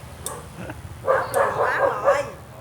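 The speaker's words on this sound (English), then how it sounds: "the audio is going to be off because the dog's barking" A dog barks in a run of several close, loud yelps amid a noisy Vietnamese street food stall serving pre-cooked offal, with a low background hum underneath.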